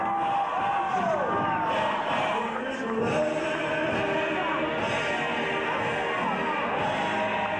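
An arena crowd at the 1998 US Open ISKA World Martial Arts Championships cheers and roars after a high-difficulty form, a sustained wash of voices and whoops with a commentator speaking over it.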